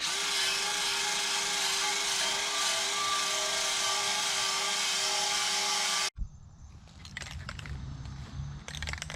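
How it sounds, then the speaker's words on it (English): Power drill spinning a wire brush to clean metal exhaust pipe on a custom exhaust for an LS-swapped square-body truck: steady loud high whine for six seconds, then abrupt stop followed by quieter scraping and handling noises. "Just using this wire brush on this drill to clean it up with."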